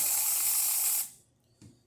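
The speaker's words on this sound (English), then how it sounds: "We're going to quickly just test steaming function." A loud, close steam hiss from an ECM Technika espresso machine steam wand blasts for about a second, then cuts off, followed by a faint click.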